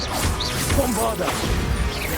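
In Hogwarts Legacy, a Bombarda blasting spell goes off with a crashing explosion amid busy combat effects and whooshes. A character's voice shouts over the blast.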